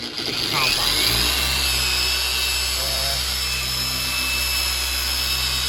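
A car polisher buffs paint with polish compound at slow RPM to remove scratches, giving a steady, close motor whir with a low droning hum that runs unbroken throughout.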